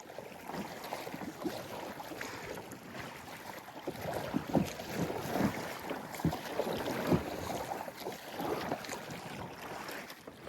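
A kayak is paddled on open water near Anclote Island, with soft, irregular splashes and dips against a steady bed of wind and water noise, moderately close and fairly quiet.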